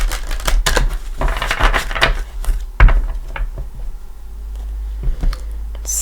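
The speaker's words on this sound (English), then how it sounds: "I shuffle again for you, and just to bring in your energy" Tarot cards get shuffled close to the microphone in quick, crisp riffling bursts and snaps, followed by a few sharp taps and quieter handling, with no one speaking.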